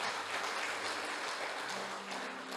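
A church congregation claps in quiet, steady applause during a sermon, a soft wash of hands with a faint tonal hum beneath.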